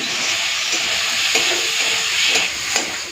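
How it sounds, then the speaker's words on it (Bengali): Chopped tomato goes into sizzling masala in a pan, giving a loud, close, continuous frying hiss with brief stirring scrapes and bursts of spatter. "মশলাটা ভালো মতো কষে নিয়েছি দিয়ে দিচ্ছি টমেটো"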